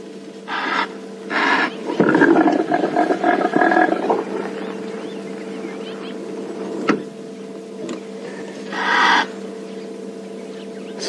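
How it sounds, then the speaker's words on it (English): An impala ram in the wild gives repeated nasal snorts that run into a strange gurgling roar, several loud rasping bursts at close range against a quiet outdoor background. "the initial noise that he makes is a nasal snort, and that progresses into the strange gurgling roar"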